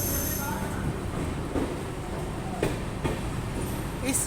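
Garib Rath Express 22541, Banaras to Anand Vihar Terminal passenger train, at a station halt: a steady broadband rumble of rolling coaches with a few sharp clanks, close and continuous, faint voices mixed in.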